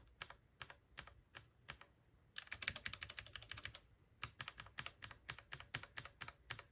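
A mechanical keyboard key switch clicks repeatedly at close range with a steady rhythm, then a quick rapid burst of presses, then more evenly spaced clicks. The sound is crisp and fairly quiet, with no talking.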